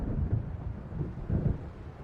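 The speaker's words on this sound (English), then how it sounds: "It seems there's a storm coming." Thunder from an approaching storm in the game Alan Wake, over waves by a lake: a low, rolling rumble that swells in soft surges, distant and muffled, with no voices.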